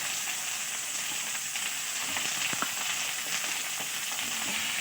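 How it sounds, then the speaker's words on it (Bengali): Brinjal, flat beans and potato frying in a wok with five-spice tempering and green chilli, giving a steady, soft sizzle and hiss with occasional light pops and stirring scrapes, with no talking. "তিনটে ফুলো বেগুন সিম আলু দিয়ে দিচ্ছি কড়াইয়ে"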